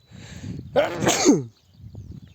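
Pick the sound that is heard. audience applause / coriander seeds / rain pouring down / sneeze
sneeze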